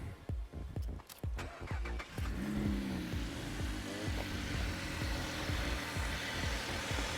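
A car with an LFX V6 engine and a newly installed RXP twin catch can cranks with rapid rhythmic starter pulses, catches and settles into a steady idle, heard close and fairly loud.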